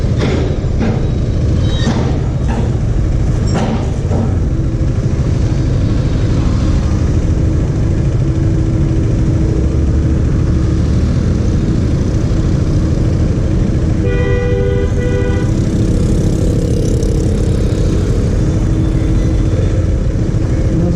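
A Husqvarna Svartpilen 250 motorcycle rumbles steadily while riding, its low engine drone blended with road and wind noise, with a brief horn toot partway through.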